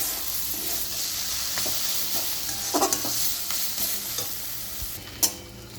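Taro leaves wilting in a frying pan for a Bengali taro-leaf and shrimp dish are stirred with a utensil, giving a steady close sizzle with scattered scrapes and clinks against the pan and no talk.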